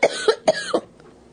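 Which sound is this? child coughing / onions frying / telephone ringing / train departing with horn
child coughing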